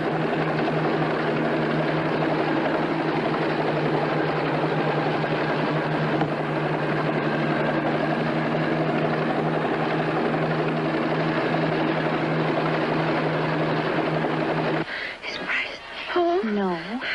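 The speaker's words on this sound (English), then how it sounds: "the recovery chopper from Baker Island is now picking up the 2 astronauts" A recovery helicopter from Baker Island picks up two astronauts, heard as a steady droning rotor hum with a low throb throughout, and a voice speaks briefly near the end.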